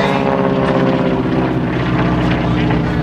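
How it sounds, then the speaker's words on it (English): A T-6 advanced propeller trainer, an SNJ in Pensacola markings, flies past at a 2011 Blue Angels Homecoming airshow. Its loud, steady droning roar fills the scene while an announcer talks over it. "And the second T-6 coming by is Scott Roselle, flying his SMJ"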